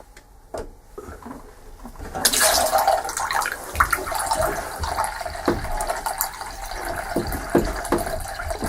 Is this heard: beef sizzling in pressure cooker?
no